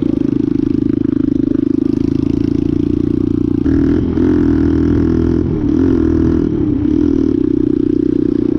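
A motocross bike engine idles and warms up close by, a loud continuous throbbing drone with slight rises and dips in pitch throughout.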